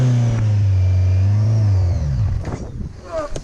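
Kawasaki Versys 1000 motorcycle engine pulling away, a loud, close, steady mid-pitched drone that climbs briefly and then fades into wind and road noise.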